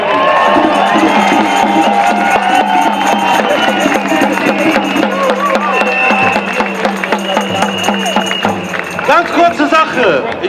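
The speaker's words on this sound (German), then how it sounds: "Und deswegen brauche ich einmal ganz, ganz fetten Applaus" A large outdoor crowd at an anti-Corona-measures demonstration in Berlin roars and cheers, with shouting voices, whoops and scattered clapping forming a loud, continuous din that swells and churns throughout.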